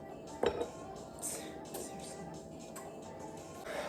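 Softened, nearly melted butter is beaten in a bowl with a utensil, giving faint scraping and light clinks against the bowl, with a sharper knock near the start and another toward the end, in a quiet home kitchen without talk.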